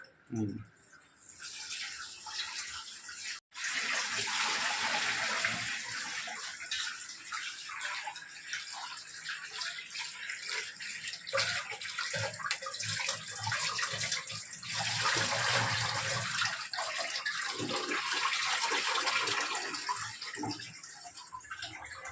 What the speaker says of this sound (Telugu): చికెన్ కూర కూడా ఉండాలండి చికెన్ కర్రీ చేయాలి అందుకని ఈ చికెన్ కడిగేసుకుంటాను